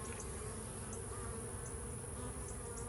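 Honey bees buzz around a nuc hanging on a tree, a steady, dense drone of many insects close by, faint overall with a few passing individual bees.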